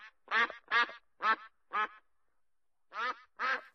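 A duck quacks six times in an uneven rhythm, four quick calls, a pause, then two more, close and clear with no other sound around them.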